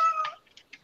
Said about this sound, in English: I apologize for the cat.